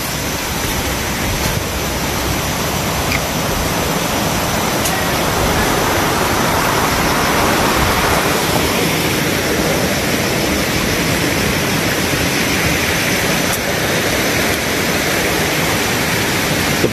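Steady, loud rushing of flowing river water fills the whole stretch, a constant broadband wash with no pauses.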